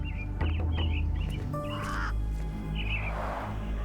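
Mynah birds caged indoors in the game Sherlock Holmes: The Awakened give a run of short harsh caws and chirps over a steady low hum, several calls clustered early and another burst near the end.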